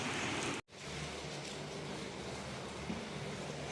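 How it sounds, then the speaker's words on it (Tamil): Steady broadband hiss of heavy rain pouring onto a road, continuous and dense, with a brief dropout near the start before the downpour noise resumes. "செம்ம மழை"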